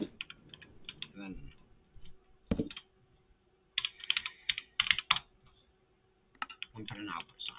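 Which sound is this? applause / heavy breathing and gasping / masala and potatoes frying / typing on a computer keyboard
typing on a computer keyboard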